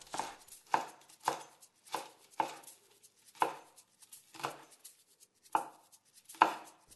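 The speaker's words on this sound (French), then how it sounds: "commencez la découpe de l'oignon tige de la partie verte vers la partie blanche en tranchant des morceaux de 3 mm" A knife slices a spring onion into 3 mm pieces from the green end to the white, with about ten crisp, evenly spaced chops on a board, close and clear with no talk.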